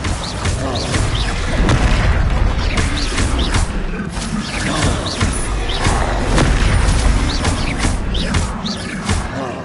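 Incendio fire spell cast in Hogwarts Legacy: a loud, dense burst of whooshing flame and rumbling booms with mechanical rattles, sustained and busy throughout, with a faint voice mixed in.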